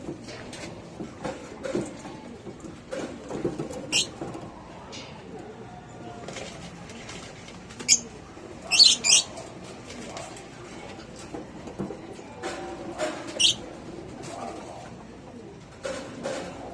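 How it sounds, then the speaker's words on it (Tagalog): Pigeons in a loft give low, soft cooing in a busy, steady murmur, mixed with scattered sharper calls and shuffling, and a voice talks in the background. "Mga kalapatids."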